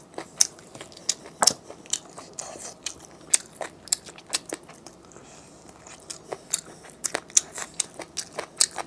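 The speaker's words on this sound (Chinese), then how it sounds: "吃过最好吃的鸡骨棒了" Chicken bone sticks crunch loudly in a close-up mouth during an eating show, with sharp irregular bites and chews repeating one after another and no talking.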